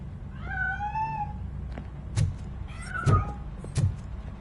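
A cat in Robocop Rogue City gives one long, rising-and-falling meow near the start, then a few sharp knocks and rattles follow, with a softer second meow in between.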